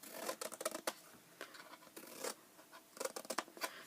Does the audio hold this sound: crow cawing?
no